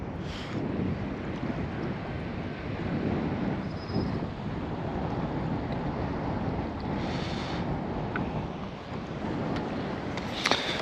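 Steady wind blowing across open water around a fishing boat, a constant broadband rush with gusty buffeting on the microphone and faint lapping of waves, no voices.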